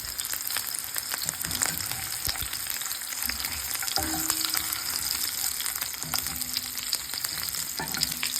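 Tocino, cured pork, fries in a pan with a steady close sizzle and crackle and occasional stirring scrapes, with no talking.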